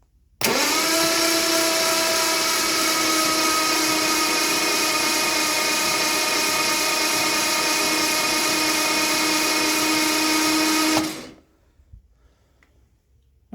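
An Armstrong Siddeley Special engine cranks on its starter in one long sustained whirring run of about ten seconds with a steady droning tone, loud and close, then it stops abruptly into quiet.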